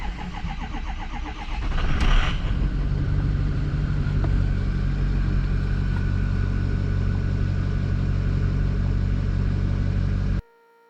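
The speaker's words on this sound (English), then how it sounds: "It wants me to start the truck and then press OK." A Ford F-350 diesel truck, an abandoned one under rebuild, cranks and fires up, then idles in a steady, loud, close clatter during an injector power balance test before cutting off abruptly at the end.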